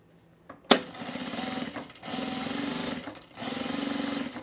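A sewing machine top stitches fabric in steady, close runs of rapid mechanical chatter, briefly interrupted by short pauses, with a sharp click as it starts and no voices.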